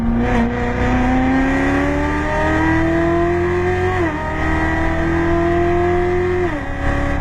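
A race car drives fast around a track, its engine roaring loud and close at high revs with a steady buzzing tone that climbs and drops through several gear changes, continuous throughout with no talking.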